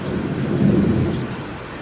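A deep rumble of thunder rolls through steady rain, a loud low swell that peaks mid-way and eases off, close and without voices.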